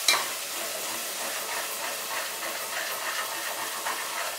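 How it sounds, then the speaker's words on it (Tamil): Curry leaves, ginger, garlic, onion and tomato sautéing for mutton kothu kari, a steady crackling sizzle with light stirring scrapes, close and continuous without voices. "கொஞ்சமாக கருவேப்பிலை போட்டு நல்லா இஞ்சி பூண்டு வாசனை வெங்காய தக்காளி வாசனை போடுறதுக்கு நல்லா வதக்கலாம்."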